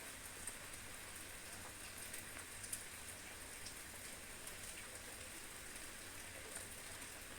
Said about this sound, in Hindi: एक्स बॉट का आंखें नम हो गया, बारिश थोड़ा धीमा हो गया